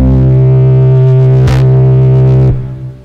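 One sustained synth note played in FL Studio, a loud, steady harmonic tone holding for about two and a half seconds with a brief click midway before fading out, alone without speech.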